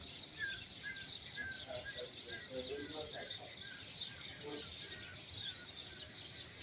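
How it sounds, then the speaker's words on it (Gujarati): Sparrows chirp in a constant chattering chorus outdoors on a hot, humid day, a dense twittering carpet of many birds at moderate distance, steady throughout with no pauses. "અત્યારે ચકલા જો કિલરવ કરે છે, સરસ અવાજ આવે છે"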